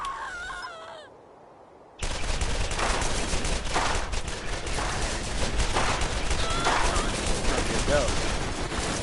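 An orange-rarity weapon firing in Borderlands 1 unleashes a loud, dense barrage of rapid gunshots that runs without pause for several seconds after a brief quieter moment of game sound.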